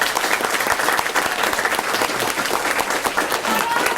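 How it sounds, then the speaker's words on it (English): A school board meeting audience gives a dense, steady round of applause, many hands clapping together at an even level for the whole stretch. "Y'all give them a round of applause."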